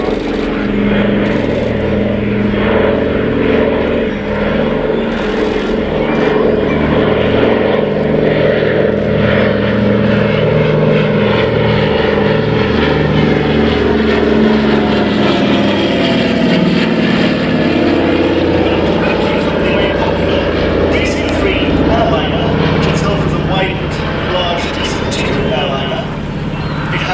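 Propeller drone of a Douglas Dakota (Skytrain) transport in RAF markings flying at a vintage air show at Shuttleworth, a loud steady engine roar throughout with an announcer talking over it.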